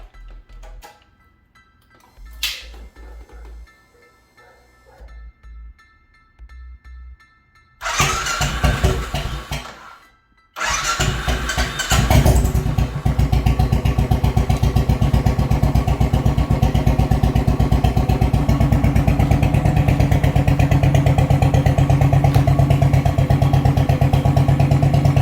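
A Royal Enfield Classic Chrome 500 motorcycle with a freshly fitted battery cranks after some faint clicks, catches briefly, stalls, then fires up and settles into a loud, steady, close thumping idle that runs to the end.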